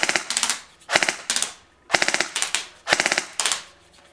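A BO Dynamics LT595 Shield CQB airsoft AEG rifle fires short full-auto bursts, loud and close, each a rapid rattling string of shots separated by brief pauses, four bursts in all.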